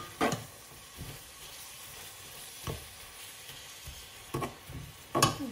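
Two onions, with salt added, fry in a pan for fried rice, giving a steady close sizzle and hiss broken by several sharp bursts of stirring and scraping.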